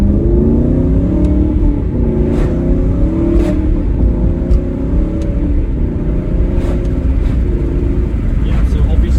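A 2014 Aston Martin V8 Vantage 4.7 N430 coupé with SportShift II gearbox idles and revs in sport mode at the Nürburgring, a deep steady rumble with gentle throttle swells and someone talking over it.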